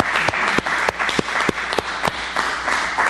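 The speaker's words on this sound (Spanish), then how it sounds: "Yo pido un aplauso para Pedeval." An audience applauds workers of the Pedeval food company at a public event, a dense, steady burst of clapping from many hands, fairly close and loud.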